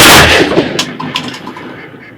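A single loud shotgun blast fired at waterfowl during a night hunt from a hide in the Sambre valley, a sharp close crack followed by a rolling echo that decays over two seconds.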